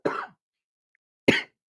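Two short, sharp coughs from one person, separated by a pause of about a second, close and fairly loud, with no talking over them.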